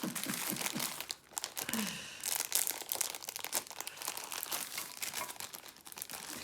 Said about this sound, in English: I'm going to have to cut open all of the bags